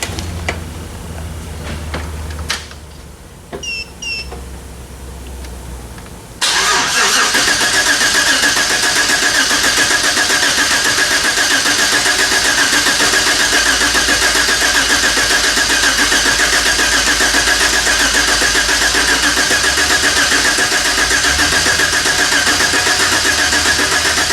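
A turbocharged LS V8 in an OBS Chevy truck with bad bearings cranks and fires up after a few seconds, then settles into a loud, steady rumbling idle that continues throughout.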